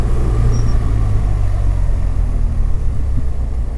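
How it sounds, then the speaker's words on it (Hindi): A BMW R1200GS motorcycle engine braking on a mountain road in Kashmir, a loud steady low rumble mixed with heavy wind buffeting throughout. "इंजन ब्रेकिंग पर आ रहा हूँ।"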